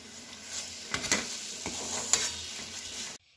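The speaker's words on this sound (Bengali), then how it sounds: "একটু গুড় আর চিনি দিয়ে এই মোয়াটাকে এবার একটু নাড়াচাড়া করে নেব" A spoon stirs a jaggery and sugar filling in a hot pan for dudh puli, soft scraping and a faint sizzle with a few louder knocks, ending abruptly in silence.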